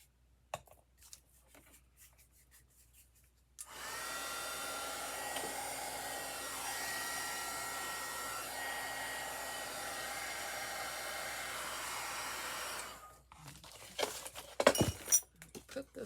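A hair dryer blows on a Christmas decoration, a steady loud whooshing roar that starts abruptly, runs for about nine seconds and cuts off, with handling clatter before and after.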